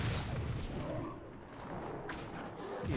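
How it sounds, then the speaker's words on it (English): Catapults firing in a Lord of the Rings video game: low rumbling booms and thuds within a dense, muffled battle din, with a brief airy whoosh partway through, fairly faint overall. "Fire the catapults."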